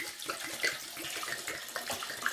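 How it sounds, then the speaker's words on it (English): Liquid from a 750 ml bottle pours into a measuring cup in a steady gurgling stream that lasts a couple of seconds, fairly close and moderately quiet. "pour this out into our measuring cup"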